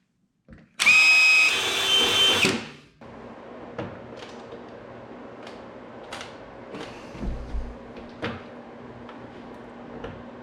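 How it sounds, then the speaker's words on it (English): A power drill whirs loudly for about two seconds while boring bolt holes for fender extenders on a Wildcat Trail vehicle, followed by scattered lighter clicks and taps of handling parts. "Now I just gotta drill a couple holes."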